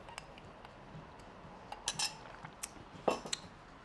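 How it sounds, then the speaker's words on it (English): Eggs, milk and flour whisked together into a batter for toad in the hole: a light, irregular metal-on-bowl clinking and tapping, close and fairly quiet, with no talk. "Whisk that together"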